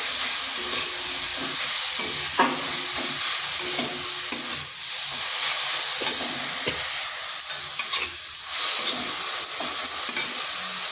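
Semolina, grated carrot and chopped coriander being stirred together in a bowl, giving steady scraping and soft mixing sounds with a few sharper knocks, with no talking.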